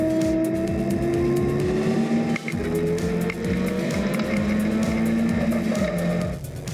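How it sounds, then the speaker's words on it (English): Race cars roar through the bowl of a wet circuit during a race, several engines overlapping loudly and steadily, with rising and falling pitch as cars pass close by, plus brief tire hiss. "Clark goes past Adicott as well as they make their way through the bowl."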